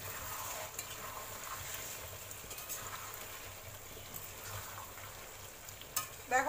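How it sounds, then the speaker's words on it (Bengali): Spices and potatoes sauté in a pan for biryani, giving a steady low sizzle with occasional scraping stir sounds and a few utensil clinks near the end. "মশলাটা আমি খুব ভালো করে কষিয়ে নিচ্ছি। এবারে আমি আলুটা দিয়ে দিচ্ছি"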